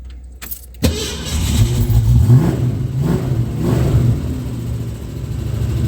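Car engine running steadily after a jump start, heard up close as a low, continuous rumble that swells slightly as it revs, following a brief clunk near the start, with no voices.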